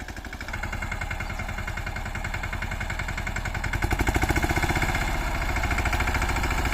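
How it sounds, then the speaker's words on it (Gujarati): A Mahindra Yuvraj 215 NXT tractor engine runs steadily at night, a loud, continuous pulsing diesel thump that grows slightly stronger and more pronounced partway through, with no talking. "અત્યારે રાતમાં ટ્રેક્ટર હાલે છે"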